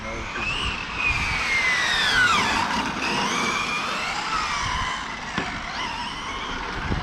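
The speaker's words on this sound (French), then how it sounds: "Après t'as les pneus qui patinent aussi." Tires of a radio-controlled Porsche car spin and skid on a parking lot, giving a rising and falling whine with squealing scrubs amid outdoor background noise.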